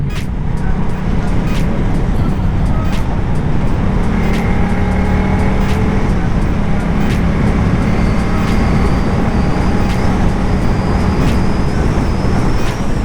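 A Yamaha MT-07 motorcycle ridden at night on a road, its steady engine drone and wind rush continuous and loud throughout, with faint passing traffic sounds.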